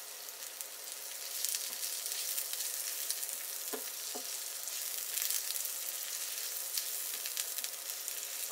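Chopped onions, with green chili, fry over a high flame in a pan, producing a continuous crackling sizzle with a few clinks of a spoon, close and fairly quiet, no voices.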